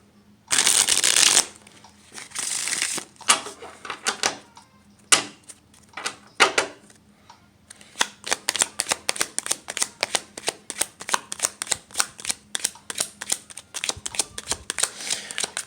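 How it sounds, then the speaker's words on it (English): A tarot deck is shuffled by hand, first in a few loud riffles and bursts and then in a quick run of crisp card slaps and flicks, close and clear with no talking. "I hit record, and then I'll shuffle once and we'll get a clarification."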